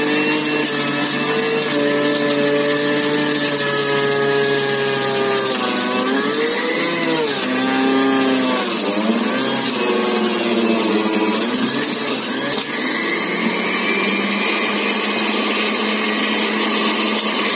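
An electric juicer runs steadily on a load of carrots, a loud continuous motor whine with shifting pitch as the carrots feed through, holding for the whole stretch with no talk.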